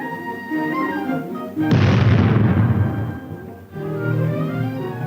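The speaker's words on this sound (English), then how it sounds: "Later, high-velocity shells are fired at the weld itself." High-velocity shells strike an experimental tank armor weld plate: a sudden loud broadband blast bursts in, sustains as a roaring rumble for about two seconds and trails off, set among steady background sound.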